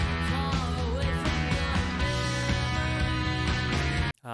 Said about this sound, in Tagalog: Ang ganda nung tunog ng drums na gamit niya dito.